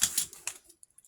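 Scissors snip through wallpaper in a few quick crisp cuts close up, followed by faint ticks and near silence.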